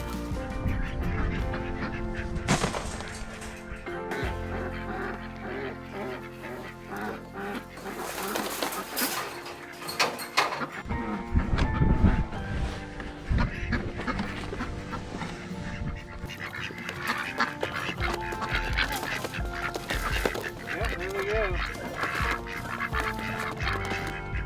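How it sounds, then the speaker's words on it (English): Farm ducks honking and quacking in a loud, busy flurry as they are chased and herded into a crate, with scuffling and handling noise throughout and no talk. "we're gonna see if we can transfer the ducks into the cage"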